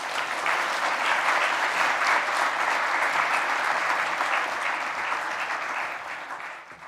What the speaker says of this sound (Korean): 큰 박수로 배경원 부총리님을 맞아주시기 바랍니다